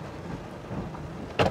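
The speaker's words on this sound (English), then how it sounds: "I'm getting rained on, so I'm gonna run." Rain falling outdoors during a storm: a steady wet hiss beneath faint background sound, ending in a brief louder burst of close noise.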